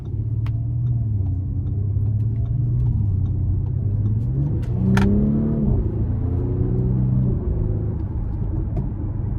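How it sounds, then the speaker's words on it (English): A 2023 Audi SQ5 3.0T Quattro Premium Plus accelerating hard, its engine note climbing steadily in pitch through a strong pull, then briefly dropping at a gear change before rising again, loud and close from inside the cabin. "Now we're gonna give this thing one final pull here."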